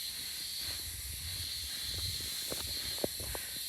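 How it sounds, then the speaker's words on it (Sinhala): Cicadas drone in a mountain forest as a steady, high, hissing buzz that fills the background evenly, with faint low rumbles and a soft click beneath it. "ඇහෙනවද දන්නේ නැහැ මේ රැහැයියෝ ගෑ ගහන්නේ."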